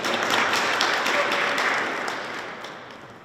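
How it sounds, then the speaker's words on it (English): Audience at an outdoor Togo independence-day flag-raising ceremony applauding, a broad crowd clapping that holds steady and then gradually fades away toward the end. "A round of applause for him."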